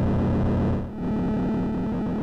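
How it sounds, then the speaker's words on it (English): Digital noise from a synthesizer's noise source: a harsh, buzzy, distorted hiss that runs steadily, dips briefly around the one-second mark, then returns at full strength. "and digital noise."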